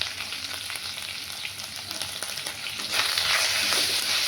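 Papaya, carrot, brinjal, raw banana and potato fry over raised heat and are stirred in a pan, giving a continuous close crackling sizzle with soft scraping that swells louder for the last second or so.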